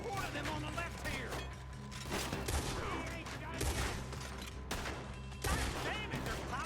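Bursts of gunfire from a Red Dead Redemption 2 shootout against a horde of enemies, dense repeated shots layered under a continuous in-game soundscape with speech-like voices mixed in.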